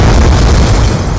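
A grenade explosion in a shooter video game, a very loud, deep boom that fills the whole moment and rumbles on without letting up.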